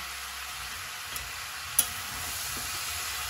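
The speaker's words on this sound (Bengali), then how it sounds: "একটু পরপর নেড়ে দিতে হবে, কেননা এটা নিচে দিয়ে লেগে যেতে পারে" Chalta (elephant apple) pickle being stirred in a kadai, a soft continuous sizzle with faint scraping and a couple of brief clinks, steady and close with no talking.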